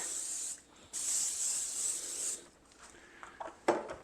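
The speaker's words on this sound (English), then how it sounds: "I like to give it a spray with a little bit of baking spray" Hissing baking spray onto a waffle maker: a short burst, then a longer steady spray of a couple of seconds, close by, followed by faint clicks and handling sounds.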